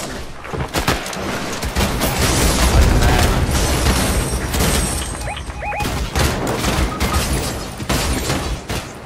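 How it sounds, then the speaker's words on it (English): Pistol and shotgun gunfire in the Fortnite video game, a dense, loud barrage of sharp shots and booming blasts with a few quick bursts, mixed with game effects throughout. "go shots with the pistol, then the shotgun"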